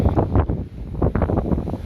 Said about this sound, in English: get little gusts, 25, 30 miles an hour